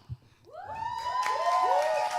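A crowd erupts in whoops and cheering, rising voices overlapping loudly, with scattered clapping beneath.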